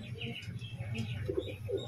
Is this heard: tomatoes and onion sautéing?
no